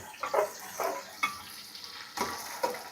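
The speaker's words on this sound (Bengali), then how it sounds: "দেখেন পেঁয়াজটা কিন্তু ঠিকঠাক ভাজা হচ্ছে" Onions frying with ginger and garlic paste in a pan sizzle quietly while being stirred, with several soft scraping strokes at an uneven pace.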